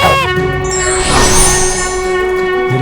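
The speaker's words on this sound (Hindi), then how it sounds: "अरे हाँ, ये तो आपके ही शंख की ध्वनि है स्वामी।" Lord Vishnu's conch shell sounds in a mythological TV drama: a loud, sustained, brassy harmonic blast that holds steadily for about three seconds over a full backing, with no speech.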